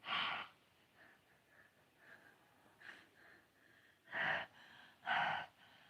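Heavy breathing comes in loud, rough bursts near the microphone, with a strong gasp at the start and two more close together near the end, separated by softer, quieter breaths.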